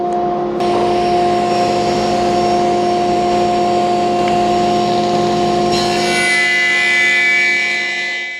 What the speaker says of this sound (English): I'm creating the bevel cuts by standing the panel on edge